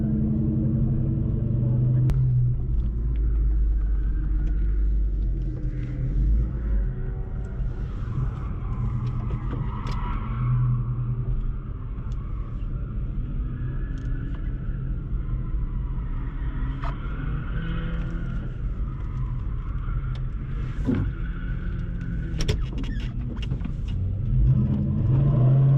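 A New Edge Mustang's engine idles steadily at about 1,500 RPM, a continuous low rumble with mild revving swells that carries on throughout, loud and close.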